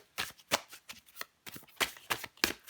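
Tarot cards are shuffled and drawn, giving quick papery riffles and soft slaps in uneven bursts, close and fairly quiet, with no talking.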